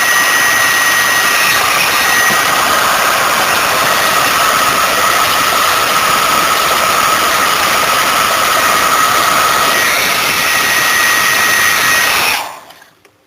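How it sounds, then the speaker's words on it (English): Handheld hairdryer blowing hot air onto heat shrink tubing slid over a fresh solder joint, a steady loud whirring roar with a faint whine that runs unbroken for about twelve seconds, then cuts off abruptly into silence. "just crack out the old hairdryer"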